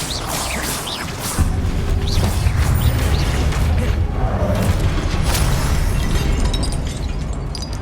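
Blasting spell explosions in Hogwarts Legacy, a sharp burst near the start followed by a sustained loud rumbling roar of fire and debris with repeated cracks, continuous throughout.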